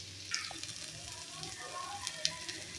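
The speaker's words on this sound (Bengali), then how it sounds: "এখন আদা বাটা দিয়ে দিচ্ছি" Ginger paste goes into onions already frying in a pan for a village-style chicken curry, bringing soft sizzling with a few sharp crackles and pops, fairly quiet, with faint stirring scrapes.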